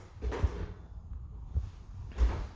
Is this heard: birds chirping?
no